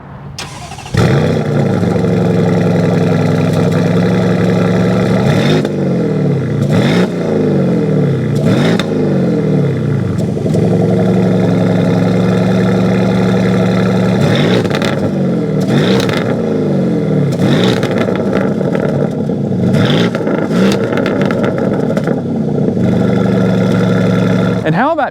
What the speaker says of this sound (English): get an exhaust clip and see what this 4-liter V8 sounds like